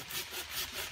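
Saw cutting avocado tree branches during pruning in an orchard, steady back-and-forth rasping strokes about two or three per second, faint and somewhat distant with no talking.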